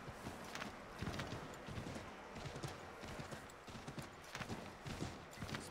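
Rapid, steady clip-clop of horse hooves in the video game Assassin's Creed III Remastered, a quick rhythmic trot of many hoof strikes, fairly faint and without talking.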